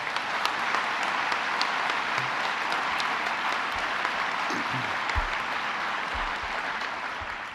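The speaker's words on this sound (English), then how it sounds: "Let's give him a round of applause." A room of attendees at a government economic development announcement breaks into sustained applause, thick even clapping from a sizable crowd with a few low thumps underneath.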